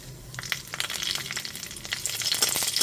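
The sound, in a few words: nigella seeds and dried chillies frying in hot mustard oil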